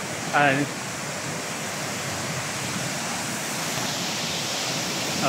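The waterfall at Kasabangan, Cabucgayan, roars as a steady, dense wash of rushing water that fills the whole clip, with a brief voice near the start.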